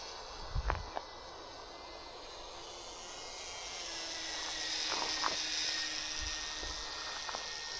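A WLtoys Cessna F949S radio-controlled model airplane flies by outdoors, its small electric motor a thin, faint whine that swells and fades, with a few soft knocks near the start.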